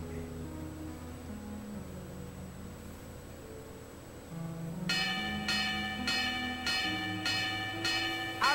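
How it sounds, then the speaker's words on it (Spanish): Several loud metallic boxing ring bell strikes ring out in an even rhythm over a low background drone, each clang sustaining with bright overtones. "Escuchen la campana."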